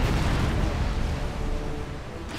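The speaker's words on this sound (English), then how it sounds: "No reason to worry, it's just a few explosions." Explosions rumble through a real-time strategy battle in Supreme Commander, a heavy, continuous low booming wash that stays loud and dense throughout with no distinct pauses.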